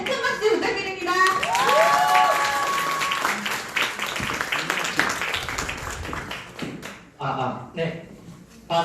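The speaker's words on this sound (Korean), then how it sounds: "김경만 리더님 나오실 때 큰 박수 부탁드립니다." An indoor audience claps and cheers loudly for a diet and fitness trainer coming on stage, a dense sustained burst that swells and then thins into scattered claps, with a host's voice talking over the start.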